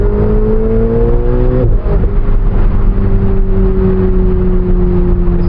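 A Ferrari 488 Spider engine drones loudly from inside the car, its pitch climbing steadily, then dropping at a gear change and climbing again more slowly under rising throttle, with road noise beneath and no speech.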